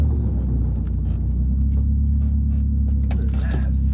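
A BMW E36 fitted with a 4.44 differential cruising on a short shakedown drive, steady low engine rumble and road drone inside the cabin, with a few faint knocks and rustles near the end.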